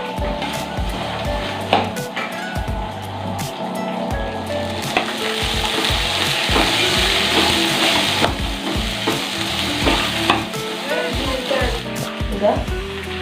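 Onions cut lengthwise go into a hot pan for Kannada-style mango rice, sizzling and frying loudly with repeated stirring knocks throughout.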